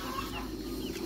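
Blue mottled Brahma hens in a farm coop, with faint, soft clucking under a low, steady background hum, heard briefly and with no talk.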